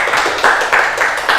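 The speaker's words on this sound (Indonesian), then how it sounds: "Beri tepuk tangan untuk Mbak Sulis." A classroom group claps for a student presenter in a rhythmic round of hand clapping, loud and close, with strong regular beats about three per second.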